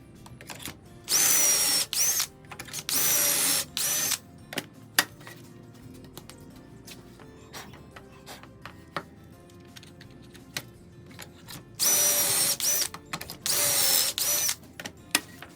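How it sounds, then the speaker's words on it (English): Power drill boring pocket screw holes while replacing water-damaged wall studs, with two pairs of loud whining bursts near the start and end, separated by quieter knocks and handling clatter. "put the holes for the pocket screws"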